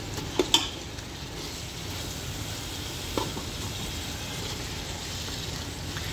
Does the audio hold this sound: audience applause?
no